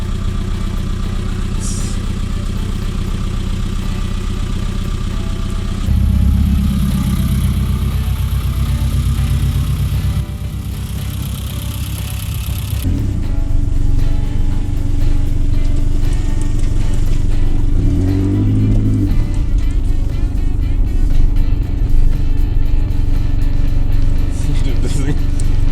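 Engine of a Japanese sports car that sat unused for 24 years, running steadily and loud throughout with a mid-pitched idle and some revving shifts, while people talk and cheer over it.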